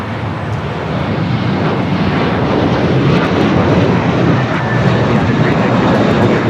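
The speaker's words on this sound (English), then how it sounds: "American A321 taking off." An American Airlines A321 jet takes off at LAX with a loud, continuous engine roar. The dense rumble stays strong and even throughout, and no one speaks.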